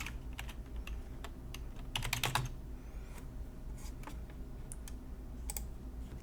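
Computer keyboard keys tap in quick uneven bursts with a few mouse clicks while editing text in Canva, close and quiet with a low hum underneath and nobody speaking.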